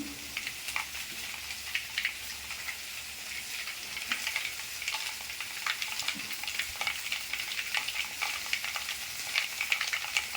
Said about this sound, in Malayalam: ഇതിൻ്റെ കടുക് പൊട്ടാൻ തുടങ്ങി.